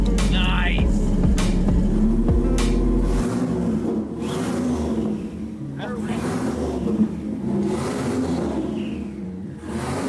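A new turbocharger on a mini wrecker engine spins up with a low engine rumble and a rising whine, close and loud, while people talk over it.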